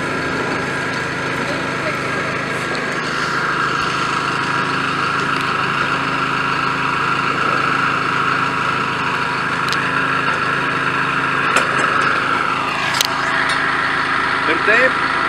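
Engine of a geological drilling rig probing soil runs in a steady, loud drone with a few brief clanks, with a voice talking over it.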